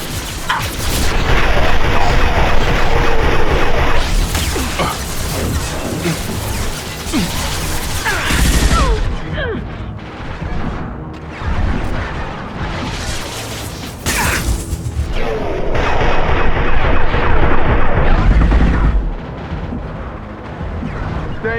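Gunfire in the video game Mass Effect 2 comes as dense bursts of shots, heavy booms and crashing impacts, loud and chaotic with short lulls between volleys.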